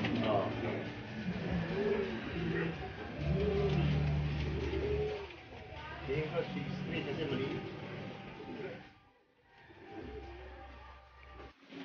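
Pigeons at a racing pigeon fun race coo nearby in repeated soft, rolling calls. People talk in the background throughout.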